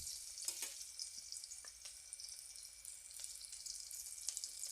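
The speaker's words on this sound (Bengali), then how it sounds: "এরপর হাফ পিস কাটা পেঁয়াজ কুচানো এর মধ্যে নাড়াচাড়া করে লালচে লালচে ভেজে নিতে হবে।" Chopped onion sizzles steadily in a pan with dried chillies, under a bright continuous hiss broken by a few sharp scraping stirs; no one speaks.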